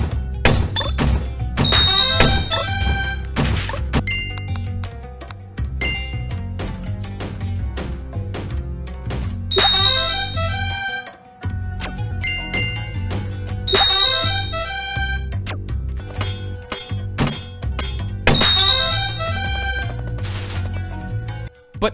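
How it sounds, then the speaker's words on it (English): Bright bell dings ring out over busy, rhythmic game music as a fairy marks each skill level-up in the video game Draganoka, recurring in loud clustered bursts through the loop. "this fairy lady keeps on appearing at the side of the screen, ringing a bell when you level up skills"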